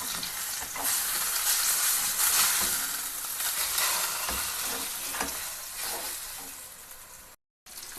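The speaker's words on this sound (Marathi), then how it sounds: "आता आपण फ्राय करून घेऊया। आता आपण पलटी मारून घेऊया।" Halwa fish frying in a pan, a loud, close, continuous sizzle with occasional crackles that briefly cuts out near the end.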